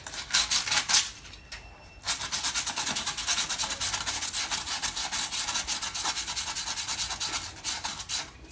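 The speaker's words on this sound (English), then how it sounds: "you just have to use a used 400 grit sandpaper or a 600 grit sandpaper just to remove the slight rust" Used 400 or 600 grit sandpaper scrubs light rust from a car silencer plate in quick, dry rasping strokes, close and steady, with a brief pause early on before the rubbing resumes.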